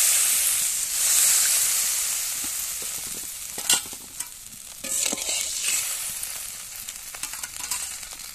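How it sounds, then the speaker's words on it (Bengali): Spice masala sizzles and fries in oil in a pan for a vegetarian cauliflower fritter curry, giving a steady soft hiss with scraping stirs and spatters, close and fairly quiet, without talk. "ভালো করে একটু মশলাটাকে কষিয়ে নেব। দেখো মশলা থেকে তেল ছেড়ে গেছে"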